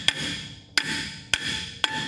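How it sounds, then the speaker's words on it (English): A hammer strikes a hot, stuck brake rotor four times at a steady pace, each blow a sharp metallic clang that rings out briefly before the next hit, close and clear with no talking. "you can grab your hammer and again,"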